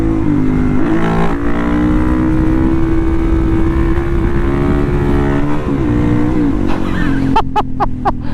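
A Suzuki DR-Z dirt bike with a JD jet kit and MRD exhaust revs hard in third gear for a wheelie, a loud, steady close engine drone that dips briefly and ends with a few sharp crackling pops.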